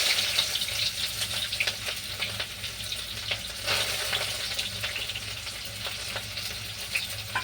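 Chopped onion sizzles steadily in a hot pan, with stirring scrapes and crackles throughout and no voices.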